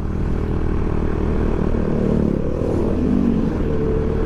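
A Motorstar Easyride 150CL motorcycle engine labouring steadily while climbing uphill, a loud, close, continuous low drone with a slight rise in pitch toward the end, wind rumble underneath and no voices.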